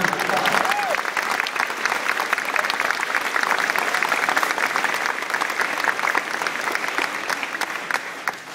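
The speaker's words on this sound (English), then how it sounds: "Let's give them one more very big round of applause." Sustained audience applause at a school event for young students, dense and steady throughout with faint voices mixed in.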